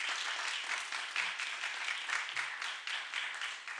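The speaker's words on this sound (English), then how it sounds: "So let's give them a great round of applause." Steady applause from an audience at a public board meeting fills the room, dense and continuous at moderate distance, with no voices standing out.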